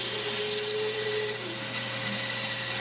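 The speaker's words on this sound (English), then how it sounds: "We can use the bandsaw. It's going to go fast." A bandsaw runs steadily, loud and close, while cutting excess wood from an inlay cutting board, with a continuous motor whine and a slight shift in tone partway through.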